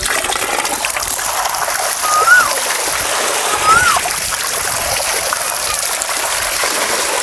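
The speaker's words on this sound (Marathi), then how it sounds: "तर आता हे सुद्धा आपण हे स्वच्छ धुवून घेतलेले आहे." Ridge gourd being rinsed by hand in water, with continuous splashing and trickling close by, a couple of slightly louder splashes standing out midway, and no talk.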